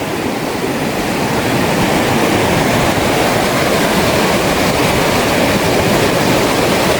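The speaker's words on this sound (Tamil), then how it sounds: "தண்ணி இப்போவும் பாருங்க இந்த மட்டத்துக்கு வந்து பாஞ்சோன்னு இருக்குது." Floodwater rushes after a cyclone near a damaged bridge in Mullaitivu, a loud, unbroken roaring torrent that fills the foreground without pause, with no voices heard.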